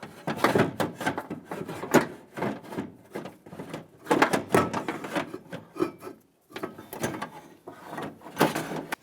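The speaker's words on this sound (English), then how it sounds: "work the regulator out of the door" Metal window regulator on a 2001-2005 Honda Civic being worked out of the door, bursts of rubbing, scraping and clunking against the door panel in uneven repeated pulls with short pauses.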